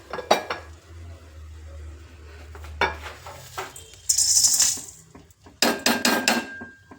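Spices being dry-roasted in a pan on a low flame for paneer fry, with close metallic clinks and scrapes of a spoon against the pan coming in irregular bursts, some bright and ringing, with no talking.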